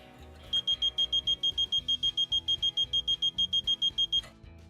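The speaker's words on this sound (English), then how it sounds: "if this does have continuity going through it, it will make a beeping sound" A multimeter set for continuity beeps while testing a 6-inch surface element from a Whirlpool stove, a rapid series of about twenty evenly spaced shrill electronic pulses, close and clear, with no talking.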